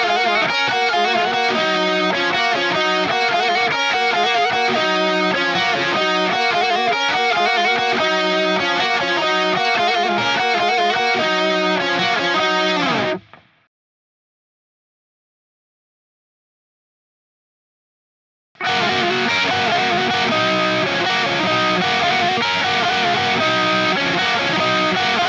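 Heavily distorted electric guitar plays a dense, harmonized line through a Boss PS-6 Harmonist set before the gain stage, sounding thick and muddy; it stops abruptly, leaving several seconds of silence, then resumes loudly.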